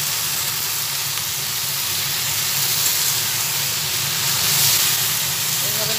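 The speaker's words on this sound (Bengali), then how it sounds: "ঢেলে দেওয়ার পরে আবার ভালোভাবে বেগুনটা সবের সঙ্গে মিশিয়ে নিচ্ছি।" Eggplant and fish-head curry sizzling in a pan as it is stirred together, a loud continuous steamy hiss that stays steady throughout.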